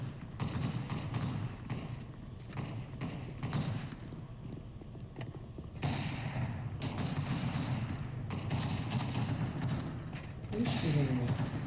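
Video game gunfire in bursts and scattered shots, quick volleys and thuds rising and falling across the stretch, mixed with a person talking at low overall volume.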